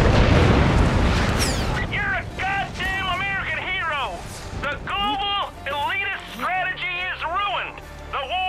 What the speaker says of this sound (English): Cool guys don't watch explosions,